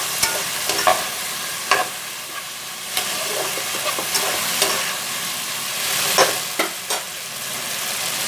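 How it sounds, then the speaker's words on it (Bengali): Masala pasta with a little added water stirred in a pan over a high gas flame: a steady sizzle with a run of scraping spoon strokes and clacks against the pan, close and alone. "দিয়ে এটাকে ভালোভাবে নাড়াবো"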